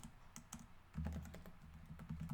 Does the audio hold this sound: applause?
no